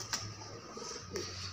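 Pigeons cooing softly nearby, two brief coos about a second apart over low steady background hum.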